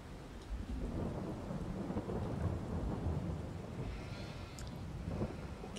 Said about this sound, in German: Es regnet immer noch.